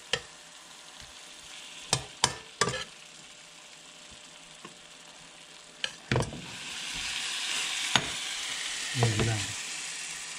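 Shrimp and bitter melon fry and sizzle in a pan, with a steady hiss broken by several sharp utensil scrapes and clanks as they are stirred, and a brief spoken phrase in the middle.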